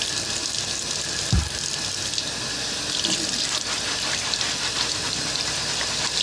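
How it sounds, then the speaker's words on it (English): Tap water runs into a sink while a toaster crumb tray is rinsed under it, a close, constant splashing hiss with a brief clunk early on and no voices. "You take your little crumb tray over to the sink and dump it down and then scrub it off."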